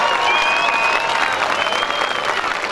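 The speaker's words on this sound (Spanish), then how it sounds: "Dímelo con ese fuerte aplauso" A crowd applauds and cheers at a jaripeo fair, a dense wash of clapping with a few whistles riding over it, loud and continuous throughout.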